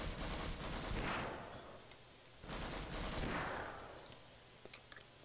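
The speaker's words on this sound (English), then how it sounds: "a machine gun doesn't really work long range, smart guy." Machine gun bursts ring out in Half-Life: Source, two long rattling volleys with a reverberant tail, followed by a few small sharp pops near the end.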